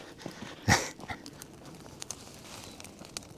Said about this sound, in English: What's a farm without farm dogs?